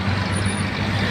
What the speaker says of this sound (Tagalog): Madaming sasakyan.